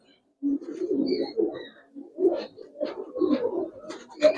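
Domestic pigeons of the Giribaz and Mukkhi (Mukhi) fancy breeds cooing in a repeating series of low, throaty burbling calls, close and fairly loud, with no speech over them.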